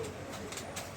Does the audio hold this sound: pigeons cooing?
yes